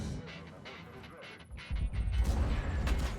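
Artillery shells land with deep, rumbling booms during a World of Tanks match, and someone talks over the muffled heavy impacts and the game's background noise.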